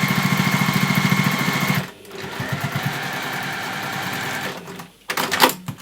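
A sewing machine stitches a scrappy fabric pouch in fast, close, rhythmic bursts. It runs steadily, pauses, then runs again at a lower pace, and a short final burst follows.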